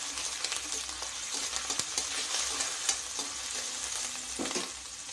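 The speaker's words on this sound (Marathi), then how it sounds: "आता अद्रक लसणाची पेस्ट 1 छोटा चम्मच आपण टाकून द्यायची आहे आणि छान परतून घ्यायची आहे" Ginger-garlic paste sautéing in hot oil in a wok, a steady close sizzle and spatter broken by scraping stirs of a spoon against the pan.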